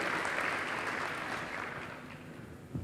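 Applause from a church congregation during a sermon, fairly faint and diffuse, fading gradually over a few seconds.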